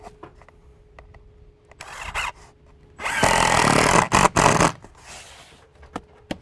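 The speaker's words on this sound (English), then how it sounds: "So as I put the mechanical fasteners in here," A power drill drives mechanical fasteners into polyurethane soffit trim, with two loud sustained bursts from the tool and shorter buzzes and clicks in between, close and without speech.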